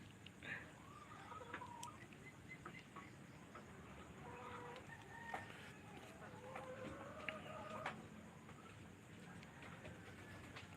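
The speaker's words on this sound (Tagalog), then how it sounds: "Yan, nandiyan yung mga manok ko." Chickens cluck and call intermittently at a backyard coop, faint and somewhat distant, over a constant low rumbling background.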